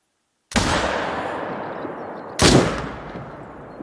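Two loud, close gunshots from a hunting rifle in a PC hunting game, each a sharp crack with a long decaying echo, about two seconds apart after a moment of silence.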